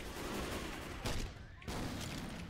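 A grenade bursts in the zombie shooter Left 4 Dead 2, heard as short, quiet crackling blasts and rattling gunfire broken by two brief louder bursts, with faint talk in the mix.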